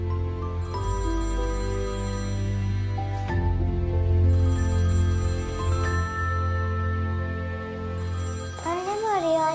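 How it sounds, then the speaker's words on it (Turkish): A telephone rings indoors in a family drama scene, a sustained tonal ringtone melody playing steadily and fairly loud, with a voice rising near the end. "telefon çalıyor."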